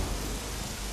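Rain pouring down over Haran, a brief burst of dense, even, broadband hiss with a heavy, rumbling low end.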